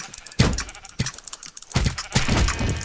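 Sheep Quest game sheep bleating in repeated loud bursts, four or five bleats spaced unevenly over a few seconds with faint tapping in between.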